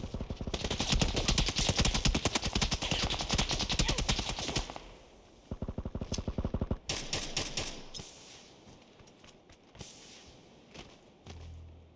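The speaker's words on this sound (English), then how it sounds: "he was just shooting at us" Automatic gunfire in PUBG, a long loud rapid burst followed by shorter staccato volleys and scattered single shots, fading toward the end with some thuds and movement noise.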